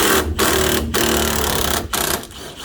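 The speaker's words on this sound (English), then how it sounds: "you're gonna hold one side and impact with the other" An impact wrench removes a front strut nut on a 2006 Honda Accord 3.0L, giving a loud, close, continuous rattling hammer in short bursts with brief gaps between them.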